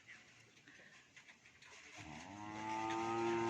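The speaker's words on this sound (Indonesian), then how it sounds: "Ini sapi dari Jawa itu." A Javanese cow at a bull-racing practice ground gives a long, loud, close moo that builds and holds, following a stretch of quieter outdoor crowd noise.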